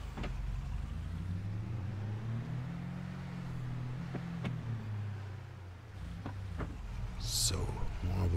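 A car in Farming Simulator 22 drives and slows to a stop, its low engine hum steady and close, with a few light clicks near the end.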